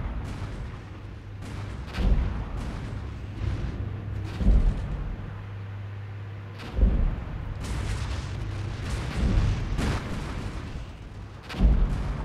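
Artillery fire in the Armored Brigade war game: a series of deep booming blasts, roughly five or six spaced impacts over a low rumbling background, each with a sharp onset and rolling decay.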